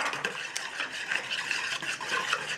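Pumpkin pie filling with egg yolk is stirred steadily in a bowl, making a continuous soft swishing and light scraping that stays close and even throughout.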